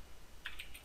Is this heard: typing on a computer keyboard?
yes